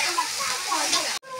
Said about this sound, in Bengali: এখন মশলা ভাজা হচ্ছে।